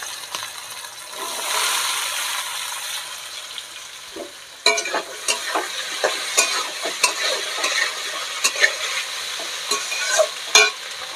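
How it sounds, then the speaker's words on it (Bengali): Chopped taro stolons go into a hot wok with oil, bringing a soft sizzle followed by a run of scraping stirs and clattering bursts as the pieces are tossed and fried. "কেটে রাখা কচুরলতি এই যে কড়ার মধ্যে দিয়ে দিলাম"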